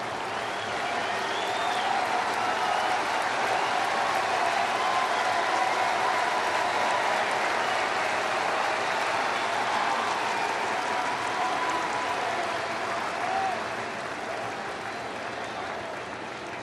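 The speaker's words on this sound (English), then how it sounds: "And the crowd comes alive." A baseball stadium crowd at a Cubs vs Cardinals game cheers and applauds in a sustained, roaring wash, loud and dense, easing slightly toward the end.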